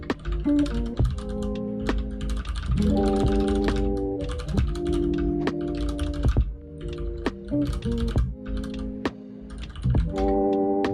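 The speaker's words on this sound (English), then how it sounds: "you can hear like every single click of my mechanical keyboard" A mechanical keyboard clacks in close, crisp bursts of rapid keystrokes, with short pauses between runs of typing and no voice over it.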